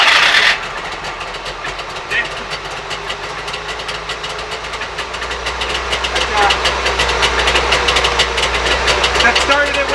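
A Trabant's small two-stroke engine cranks over and catches almost at once, then runs roughly on only two cylinders with a steady, uneven knocking that grows louder and nearby toward the end, and a voice speaks over it.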